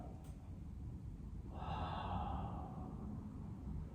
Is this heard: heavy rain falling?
no